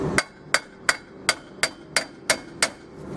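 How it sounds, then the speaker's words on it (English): Eight sharp metallic hammer blows on a corroded rear brake rotor of a Mercedes 190D or 190E ring out at a steady, even pace, each strike clanging loudly with a short ringing decay, no voices. "It is okay to hit the brake rotor with the hammer."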